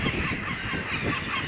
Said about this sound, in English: And seagulls are making noise.